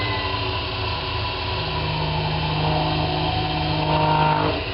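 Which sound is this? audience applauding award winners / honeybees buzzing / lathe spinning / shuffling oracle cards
lathe spinning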